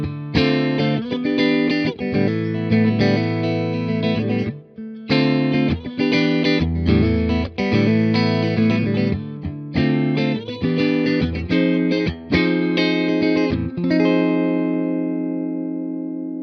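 An electric guitar plays a twangy country line on the middle pickup through a Fender Twin Reverb Tonemaster amp, with bright, clear picked notes and chords over about sixteen seconds, close and prominent, ending on a ringing sustained chord.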